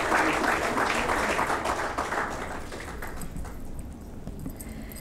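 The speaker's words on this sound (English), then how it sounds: "I expect you all to give a loud round of applause for HCL Technologies" Loud applause fills the hall at an Indian Merchants' Chamber award ceremony, a dense wash of clapping that fades noticeably after about three seconds into a quieter tail.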